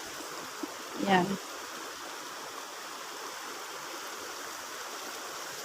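Water flows steadily in a shallow countryside stream, a soft continuous trickling wash throughout, briefly interrupted near the start by a short spoken word.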